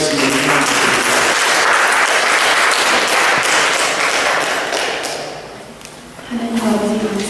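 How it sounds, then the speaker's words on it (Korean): A church congregation claps in sustained applause, dense and loud, then fading out toward the end as another sound begins. "우리 주님 앞에 감사 박수 올려드리시고 준비하시겠습니다."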